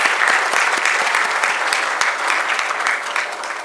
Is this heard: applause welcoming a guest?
yes